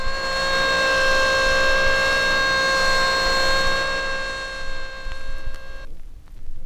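A Vickers hydraulic pump runs at 3600 RPM with a loud, steady, high-pitched whine heard up close. After about six seconds it cuts off abruptly, leaving a rougher, quieter mechanical rumble.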